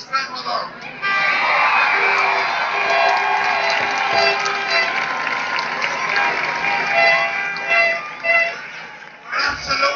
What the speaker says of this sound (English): give it the biggest cheer of the night